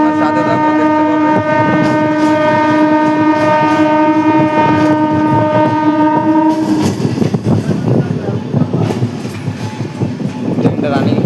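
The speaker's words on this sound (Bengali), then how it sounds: "ট্রেনটা রানিং করেছে, দেখেছো ভালোই মোটামুটি।" A passenger train near Bagbazar station by the Ganges sounds a long, loud horn blast, then the horn stops and the train rolls on with rumbling wheels and rhythmic clickety-clack on the rails.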